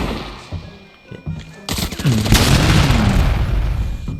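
In the video game Arena Breakout, a heavy, booming grenade explosion bursts suddenly after a few quieter thuds, and its rumbling blast lingers loudly to the end.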